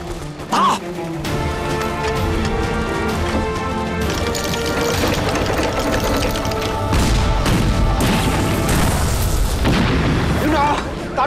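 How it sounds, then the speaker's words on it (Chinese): Wartime drama scene with an artillery cannon firing and a shell exploding: heavy booms and crashing blasts sit under a loud, sustained musical score, with voices shouting commands. "再来，田队，预备，放！"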